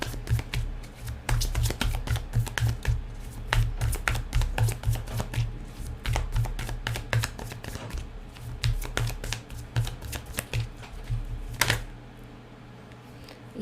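Tarot cards are shuffled by hand close up, with a long run of quick crisp riffles and flicks in an uneven rhythm and a few louder slaps, no talking over them.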